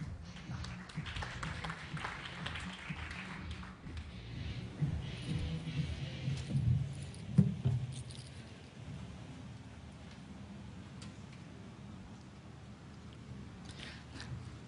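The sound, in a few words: audience applause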